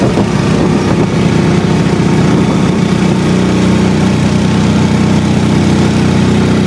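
Hero Splendor Plus motorcycle engine labouring uphill on a hill ride in Bandarban, a loud continuous low chugging drone that stays steady throughout with no talk.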